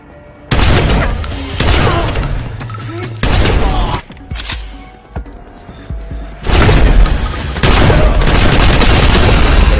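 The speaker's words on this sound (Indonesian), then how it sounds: "mengganti senjatanya menggunakan shotgun" Loud, repeated blasts of shotgun gunfire from a close-quarters fight in the 2019 John Wick film, heavy booming shots in bursts with brief lulls between volleys.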